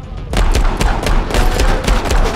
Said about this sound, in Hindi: गोलियां तो लग रही है गाइस इसको